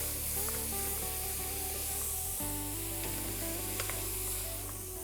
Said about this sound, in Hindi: मसाले के साथ में घुमा लिया राजमा। जो मोनोपोली है ना, वो भुनाई है, भुनाई।